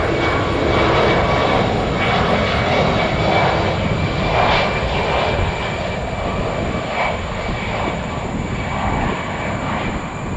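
An airliner taking off from runway 4 left at JFK Airport, its jet engines roaring loud and steady throughout with a constant whine, heard alone without talk.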